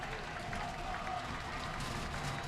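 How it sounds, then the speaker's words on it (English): Broad crowd noise and scattered clapping fill the stands at a Bay Port versus Notre Dame high school varsity football game, a steady distant wash with a voice talking over it. "Nice crowd here on this week 2."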